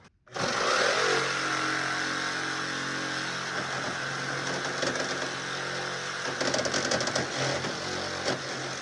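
A Sawzall reciprocating saw cuts through rusty bolts on a classic Ford Bronco, its loud, continuous buzzing motor rasping on metal with slight rattling variations near the end.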